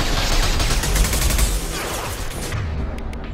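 Sniper rifle fire in the video game Mass Effect 2: loud, booming gunshot bursts recur through the first half, then the background thins to a quieter hum with a few faint clicks.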